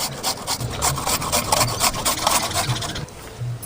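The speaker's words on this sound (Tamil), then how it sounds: "பெரிய வெங்காயம் 1 சுரண்டி எடுத்துக்கலாம்." A large onion being grated by hand, a close, continuous rasping scrape in quick repeated strokes, fairly loud and steady throughout with no voices.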